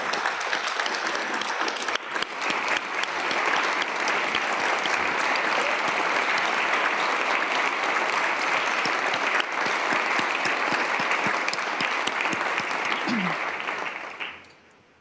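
Sustained audience applause in the chamber during South Dakota's State of the State address, honoring the South Dakota Ag Foundation. It is a broad, even roar of many hands clapping that holds steady for about fourteen seconds, then fades out quickly.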